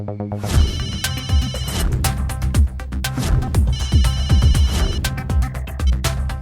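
Phone ringtone sounding during a call in a Hindi TV sitcom episode, a loud, close, repeating electronic melody with pulsing tones and a steady rhythm, heard alone.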